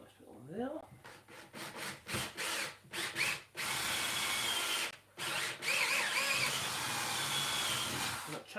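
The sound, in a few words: power drill drilling into wood for a stair gate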